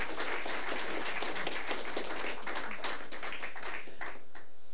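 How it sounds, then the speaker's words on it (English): An audience at an annual awards ceremony gives a round of applause. Dense, steady clapping from many hands fills the room for about five seconds and stays fairly soft, with no talking over it. "So let's give her some applause."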